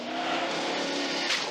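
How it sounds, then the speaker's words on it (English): A big 440 Dodge car power slides on dirt, its engine roaring hard in a brief, loud, close burst with gritty tire and gravel noise. "the way that thing would just power slide, that big 440 Dodge, and just fling rocks for about 100 yards"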